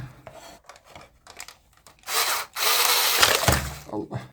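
Screwdriver backing a screw out of an Arzum hair dryer casing: light scraping and ticks at first, then a sustained harsh grinding rasp with a brief gap before it resumes, close and fairly loud.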